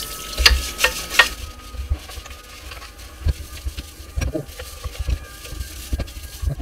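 A parts washer runs steadily while 110cc Barton Dragon motorcycle engine parts from a badly damaged 152FMH four-stroke engine are cleaned, making a continuous wet churning and splashing with irregular knocks and scrapes, fairly close and loud.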